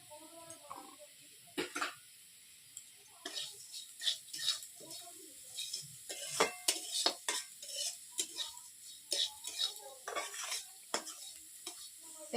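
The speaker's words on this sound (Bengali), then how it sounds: "এবার গোটা জিরেটা দিয়ে দিই" Whole cumin seeds go into hot oil while cooking. A light sizzle runs under repeated clinks and scrapes of a utensil against the pan, coming in irregular bursts.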